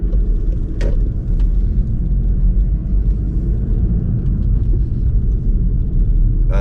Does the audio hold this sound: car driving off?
yes